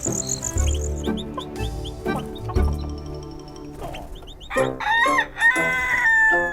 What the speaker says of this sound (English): Rusty the rooster woke up with the sun.